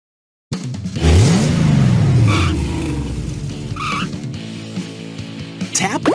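Cartoon monster truck from the Blaze and the Monster Machines video game revving up and peeling out, a loud rising engine roar with tire screeches, followed by brief higher-pitched effects and a fading rumble.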